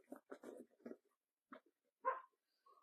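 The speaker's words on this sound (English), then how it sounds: "That's the dog" A pet dog gives a few short, quiet barks and yips in a room, spaced irregularly with silence between them.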